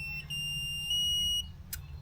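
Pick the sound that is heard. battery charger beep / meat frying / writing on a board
battery charger beep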